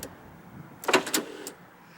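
Power window on a 1994 Ford Explorer Limited sliding up with freshly lubricated felts, a short, quiet whirring burst with a couple of squeaky pulses, close by and with no talking.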